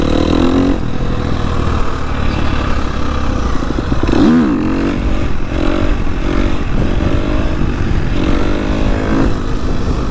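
A dirt bike engine roars loudly and steadily nearby during wheelie attempts, revving up and down with rising and falling pitch and a brief clattering dip partway through, with no talking.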